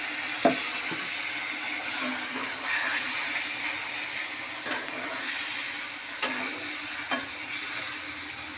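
Spice paste for katla fish kalia fries in a pan, giving a continuous moderate sizzle and hiss with a few sharp stirring clinks and scrapes spaced through it.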